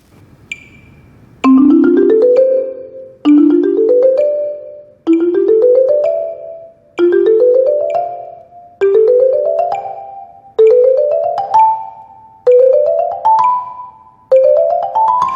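A marimba plays rising stepwise white-note scales with two mallets, eight repeated phrases each climbing higher, with steady metronome clicks marking time beneath the notes.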